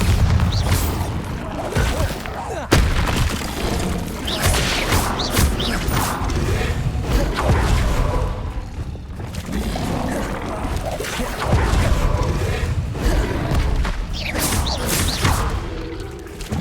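Bombarda spell blasts in Hogwarts Legacy combat burst out as repeated booming, crashing impacts mixed with dense game effects, loud and continuous throughout.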